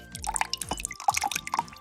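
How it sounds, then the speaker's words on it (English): Water poured over clear gel beads into a glass vase for a wedding centerpiece, heard as close, bright splashing and dripping in short bursts with no one talking. "If I take these and I pour them in here, you can see that it's just water"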